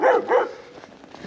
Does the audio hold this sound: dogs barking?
yes